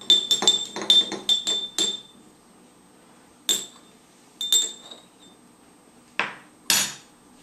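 A utensil stirs red food coloring into rubbing alcohol in a glass, giving a quick series of bright clinks followed by a few scattered taps, close and clear with no talk.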